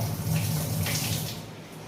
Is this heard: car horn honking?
no